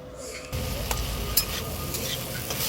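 Radish pods and eggplant being stirred and fried in a pan, a steady close sizzle with scraping stir strokes and a few sharper clinks over the hiss.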